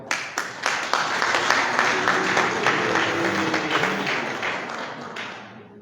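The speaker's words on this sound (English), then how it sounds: "Please applaud him." Audience at a House of Representatives legislative retreat applauding a bishop, a few sharp early claps swelling into sustained, fairly loud clapping with voices mixed in, then tapering off.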